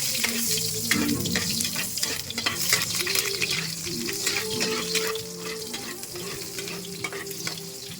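Ginger hitting hot cooking oil in a home kitchen pan, a loud, steady sizzle and crackle with scraping stirs and some clinks of utensils, continuing without any voices.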